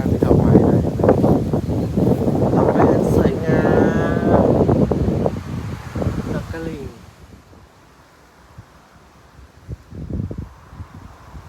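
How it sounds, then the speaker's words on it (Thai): Strong wind buffets the microphone with a rushing roar while someone talks over it in Thai, then the gusts drop away to near quiet. "มันจะขึ้นมาโดนลมแรงมาก"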